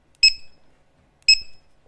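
A LiPo battery checker sounds its low-voltage alarm, two short sharp high-pitched beeps about a second apart, close and clear with no talking.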